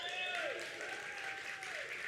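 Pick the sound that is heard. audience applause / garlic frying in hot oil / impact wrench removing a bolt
audience applause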